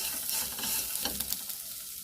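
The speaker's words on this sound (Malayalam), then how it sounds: "അതിലേക്ക് കുറച്ച് സവാള എന്നത് ചേർക്കാം" Chopped onions sauté in a pan with coriander and chilli for a chickpea curry, a close sizzle with a few scraping stirs over a short moment, fairly quiet and free of talk.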